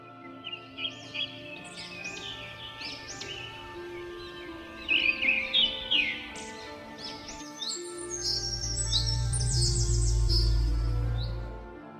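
A bird chirps in quick, bright bursts of twittering song that grow denser midway, over a faint sustained tone; toward the end a loud low hum rises beneath the calls and then fades.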